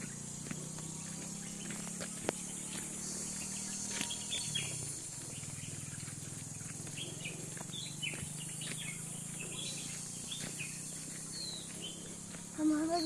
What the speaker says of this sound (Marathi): व्हॉइस ओव्हर मुद्दाम थांबवला होता मी पक्ष्यांचे आवाज ऐकण्यासाठी.